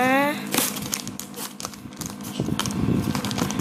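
Plastic packaging crinkles and rustles in uneven bursts while a parcel is packed up close, with a brief voice near the start.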